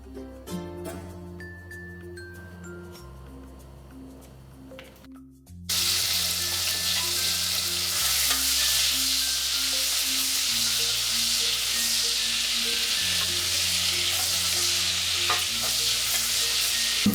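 Pancetta browns in a pan for a ragù, starting with quieter stirring and clinking, then breaking into a loud, continuous hiss of sizzling fat that fills the rest of the stretch, with faint background music.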